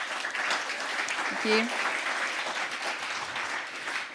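An audience gives a round of applause for panelists and speakers, a steady wash of many hands clapping in a hall, while a voice briefly speaks over it.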